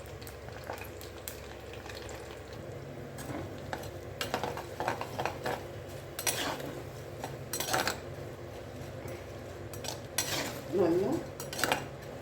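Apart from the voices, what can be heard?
dried black nightshade berries frying in oil in a clay pot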